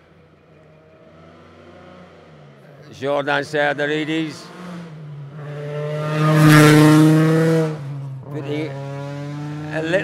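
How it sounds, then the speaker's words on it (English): A commentator talks as Rally1 cars at WRC Safari Rally Kenya 2024 roar past close by, engines revving hard and then fading, one after another. "It's a brace of Rally 1 cars."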